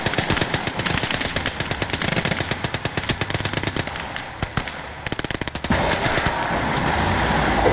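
Rapid machine-gun and rifle fire from tanks and infantry in the WWII strategy game Call to Arms: Gates of Hell Ostfront, a dense sustained burst of shots that thins out briefly before heavy firing resumes, loud and close.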